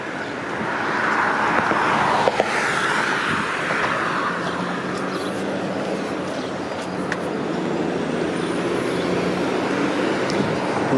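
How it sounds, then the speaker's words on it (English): A Green for Life garbage truck rolls by on a street in Brampton, Ontario. Its engine rumble swells and fades against a steady wash of traffic, with a few faint clanks mixed in. "there's like Green for Life garbage truck"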